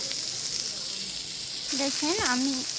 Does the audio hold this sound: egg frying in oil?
yes